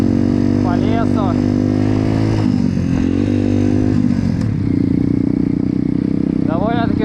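Pit bike engine buzzing nearby while riding through deep snow in a forest, holding a steady drone with revs rising and falling, shifting pitch midway; people talk over the engine throughout.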